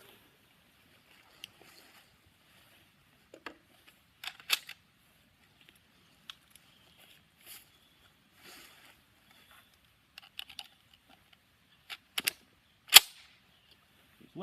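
M1 Garand rifle being loaded with an en bloc clip, the op rod then slamming closed, heard as sparse sharp metallic clicks and clacks with quiet pauses between and one loud snap near the end.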